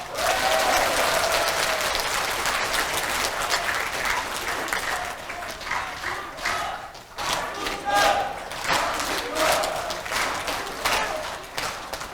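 A crowd of war veterans at a rally in the National Assembly's main conference hall claps loudly in sustained applause with a few shouts mixed in, fading slightly midway before swelling again.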